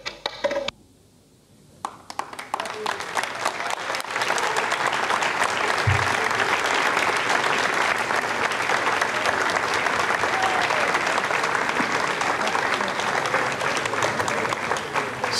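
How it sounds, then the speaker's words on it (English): Sustained applause fills the Jupiter control room at Europe's spaceport after an Ariane 5 ECA rocket's Koreasat 7 satellite separation, a dense, steady clapping from a room of people that continues loudly throughout after a brief quiet start. "you can hear the applause and you can see the pictures, the happy faces, the hugs and the smiles all around here in Jupiter"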